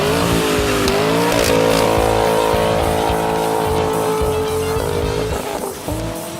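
A 2018 Toyota Tundra Platinum Edition with Street Demon performance exhaust and AFE cold air intake revs loudly and close, holding a steady rumbling drone with a couple of pitch rises, no talk.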